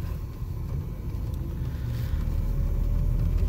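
A Toyota Tacoma pickup cruises down a road at about 50 mph, its steady low engine and tire rumble gradually building in loudness, with no voices heard.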